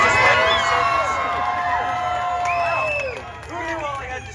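A Disneyland audience cheering and shouting, with many overlapping voices and whoops rising and falling, dense and close, with some clapping mixed in, then fading a little toward the end.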